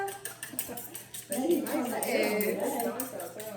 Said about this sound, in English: so I'm whisking